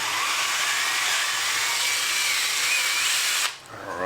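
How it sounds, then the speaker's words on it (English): A power drill whines loud and close while boring a hole into a Mario lamp figure, running steadily for about three and a half seconds before stopping abruptly. "which will make it a lot easier to drill a hole in"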